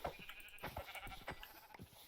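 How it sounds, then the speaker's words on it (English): Sheep bleating in a survival video game, several short nasal calls spread across a couple of seconds over a soft steady ambient bed, moderately near. "I knew I'd find sheep around here somewhere."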